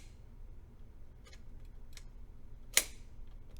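A Kodak Brownie No. 2 box camera's simple rotary shutter is triggered, giving a single sharp, close click after a few faint mechanical ticks against a quiet room hum.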